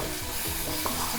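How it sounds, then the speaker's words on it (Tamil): Ground urad dal paste for paruppu usili being sautéed and stirred in hot oil in a pan, a short close burst of scraping stirs over a steady sizzle. "அரைச்ச விழுதை சேர்த்து அப்படியே எண்ணெயிலே நல்லா வதக்கிடலாம்."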